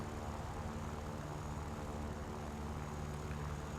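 Aircraft engine in the video game War Thunder: a steady, dense droning roar that holds evenly without change for the whole few seconds, with no voices over it.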